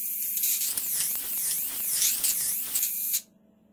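An electric trimmer from a mystery box buzzing against mustache hair, a close, harsh whine that wavers in pitch as it moves, then cuts off abruptly near the end.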